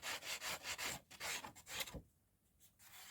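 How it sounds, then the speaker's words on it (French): A nail file rasps back and forth across the edge of a cardboard advent calendar box in a quick run of rough, rhythmic strokes, then breaks off into near silence. "vous prenez une lime à ongles et vous limez"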